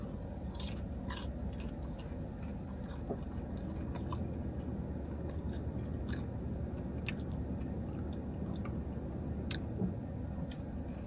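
Someone chews dill pickle flavored popcorn in a car, with close, steady crunchy mastication and small crisp bites over a low road rumble, no talking.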